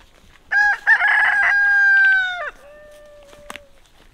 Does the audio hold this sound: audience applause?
no